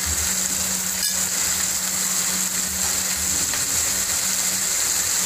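Chopped tomatoes go into a pan of frying chicken for a Bengali-style chicken gravy, with a steady close sizzle and a brief clatter near the start, no talking.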